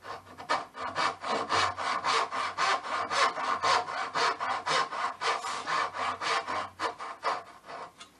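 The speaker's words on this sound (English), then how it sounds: "So now I'm going to saw right on that line." A hand saw cuts along a marked line into a wood tenon, its steady back-and-forth strokes rasping in a fast, even rhythm, close and clear with no talking.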